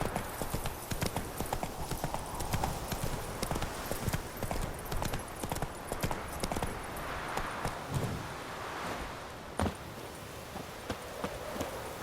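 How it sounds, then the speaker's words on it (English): Horse hooves clip-clop at a steady gallop in The Witcher 3: Wild Hunt, a loud continuous rhythmic beat over outdoor game ambience, with faint speech in the background. "Run, Roach"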